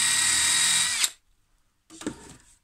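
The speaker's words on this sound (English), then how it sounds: "drill a hole all the way through" A power drill bores a hole through small wooden toy Viking feet held in a vise: a loud sustained whine that cuts off abruptly, a pause of silence, then a shorter second burst that winds down.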